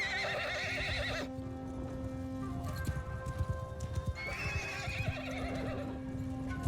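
Horse hooves clip-clop in a quick, uneven patter between high, drawn-out whinnies in the video game Shokuho, fairly close and moderately loud.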